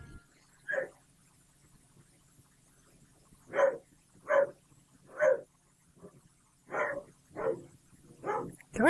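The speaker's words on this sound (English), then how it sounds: "The doggo won't stop barking." Short bursts of game-dog barking from Final Fantasy XIV repeat in an irregular series, about eight clipped barks clustering toward the end, fairly close and alone over faint ambience.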